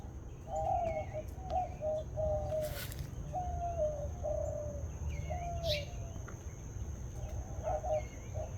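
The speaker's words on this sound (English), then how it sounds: "But I also have some birds visiting." Birds call in an early-morning garden on the Texas Gulf Coast, a repeated series of short clear notes at moderate distance over a soft outdoor background hum, with a couple of brief sharper sounds between calls.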